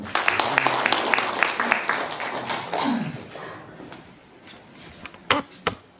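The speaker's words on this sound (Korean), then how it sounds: "다시 한번 박수 부탁드립니다." Audience members at a neighborhood residents' briefing applaud, a burst of clapping that fades after a few seconds, followed by a few scattered thumps and a voice.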